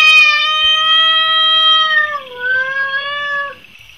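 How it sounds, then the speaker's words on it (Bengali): Cat meowing as a sound effect in a narrated audiobook, one long drawn-out, clear meow that bends downward near the end, loud and close, with no voice over it. "বাগান থেকে শোনা যাচ্ছে একটা বিড়ালের ম্যাও ম্যাও ডাক।"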